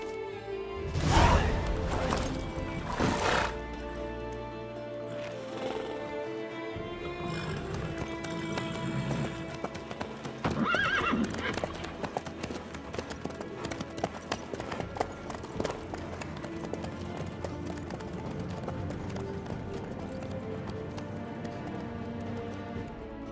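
Horse hooves clip-clop at a steady walking rhythm in The Witcher 3, under a long stretch of game music and ambient sound, with a few louder clattering bursts early on.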